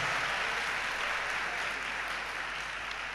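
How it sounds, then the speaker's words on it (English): An audience at an exam distinction awards ceremony for top secondary students keeps applauding, a continuous wash of clapping at steady volume with a low hum underneath. "Shall we continue with the applause?"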